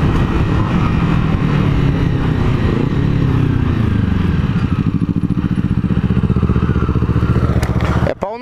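A Honda CG125 Titan motorcycle revs hard, its single-cylinder engine climbing and falling in pitch with a rattly, throbbing note close by, before cutting off abruptly at the end.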